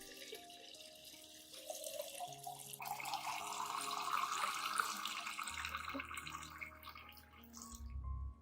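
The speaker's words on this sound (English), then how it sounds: "add 1 liter of clean water to dilute the mixture." Clean water poured into a garlic and rice-water mixture: a faint, continuous splashing pour that builds and then tapers off over several seconds, alone with no talk.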